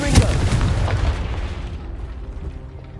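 A Confringo blasting spell goes off in Hogwarts Legacy as a single close, heavy boom with a sharp onset, then a rumbling tail that fades over about two seconds.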